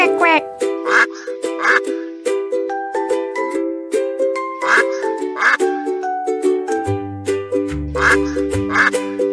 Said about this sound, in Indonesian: Bebek bersuara wek wek wek